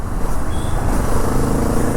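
A 2022 Kawasaki Z650 RS retro 650cc motorcycle engine runs steadily for two seconds, a loud, continuous low rumble with dense broadband noise and no speech over it.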